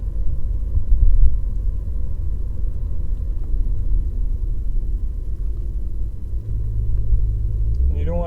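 A VW B5 with a 1.8T engine running lean at part throttle pulls under partial hard acceleration, a steady low rumble heard from inside the car that rises slightly near the end.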